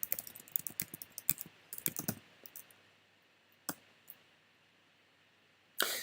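Keystrokes on a computer keyboard while writing HTML, a quick irregular burst of close clicks for about two seconds, then a few isolated taps and a louder clatter at the end, alone with no talk.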